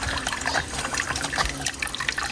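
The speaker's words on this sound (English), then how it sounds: "it pumps the water up into the back of this with a pipe, can you see?" Water trickling and splashing in a small solar-pumped looping water feature in Thailand, a close, steady burbling flow with no talk over it.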